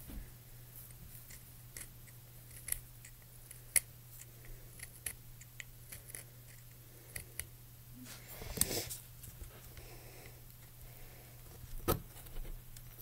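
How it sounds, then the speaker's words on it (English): Quiet, sporadic scraping and shaving of a small snapped pencil being whittled to a point with a knife, faint clicks and rasps scattered over a low steady hum, with a louder rasp near the end and no talking. "And then you're just going to sharpen it with your knife."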